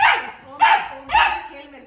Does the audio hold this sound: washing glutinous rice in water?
no